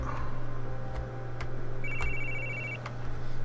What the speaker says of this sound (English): Quick, George, get your phone.